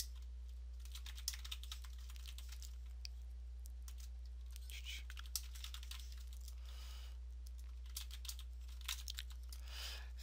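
Quick, uneven keystrokes on a computer keyboard as keywords are typed in, close and fairly quiet, in short bursts with small pauses over a low steady hum.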